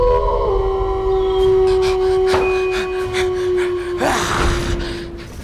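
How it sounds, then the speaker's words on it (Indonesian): A wolf howls in one long, steady, wavering note lasting about five seconds against a noisy, rustling background, with a brief burst of noise near the end. "Kayaknya ini suara serigala tuh, Din."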